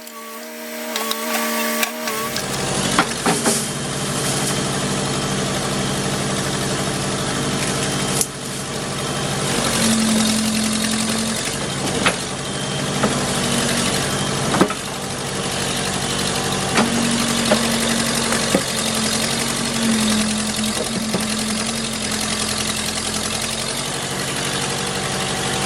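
A Case 580B backhoe engine idles steadily for the whole stretch, a loud continuous mechanical drone with faint clatter and occasional brief shifts in tone, after a short quiet start.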